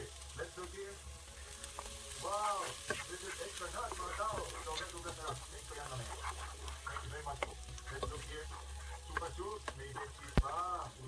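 Butter melts into a pan of translucent onions for beef stroganoff, giving a steady close sizzle and crackle of frying that runs throughout, with faint speech in the background.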